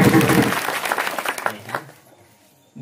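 A crowd at a Marathi comic kirtan breaks into dense, lively applause that carries on strongly, then thins and fades away to near quiet within about two seconds.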